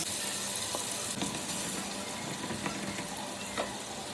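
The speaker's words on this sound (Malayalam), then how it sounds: "നല്ല ചൂടായ പാനിലോട്ട് ഓയിൽ ഒഴിക്കുകയാണ്. അതുപോലെ നമുക്ക് ഈ ചിക്കൻ എന്നിട്ട് അതിലോട്ട് വറുക്കണം." Marinated chicken fries in hot oil in a pan, giving a steady, close, hissing sizzle with a few faint clicks and pops scattered through it.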